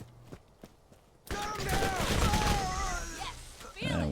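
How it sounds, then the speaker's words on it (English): Rapid SMG gunfire in Borderlands, a loud continuous burst of automatic shots with game effects layered over it, following a quiet stretch of a few faint footsteps. "Alright, let's see how this SMG does"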